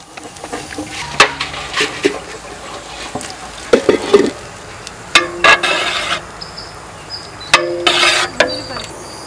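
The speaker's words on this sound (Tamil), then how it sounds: "முந்திரி பருப்பு எண்ணெயில் போட்டு பொறிச்சு எடுத்துக்கிறேன் பாயசத்துக்கு" Cashew nuts fry in hot oil for payasam during village wedding cooking, giving a steady sizzle with louder crackling bursts and occasional stirring scrapes, close and continuous.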